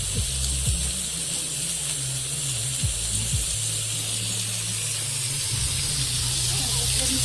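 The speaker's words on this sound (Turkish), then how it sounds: "Patateslerimizi de şöyle kızartacağız." Steady hissing sizzle of potatoes frying in hot oil, continuous and fairly loud, with a low hum and faint clatter underneath.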